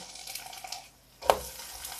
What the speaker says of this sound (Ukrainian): Нехай смажиться тепер з іншої сторони